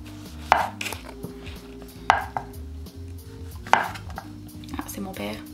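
Three evenly spaced knife chops thud onto a cutting board as mushrooms are cut for a homemade pizza, close and clear over steady background music with no talking.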